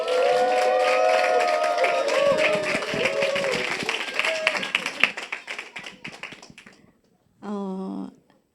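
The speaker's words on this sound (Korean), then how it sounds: "우리 큰 박수로 같이 환영하겠습니다" Congregation clapping and cheering at a church revival service to welcome a visiting preacher, a dense crowd of applause that gradually thins out and fades, followed by a short burst of speech near the end.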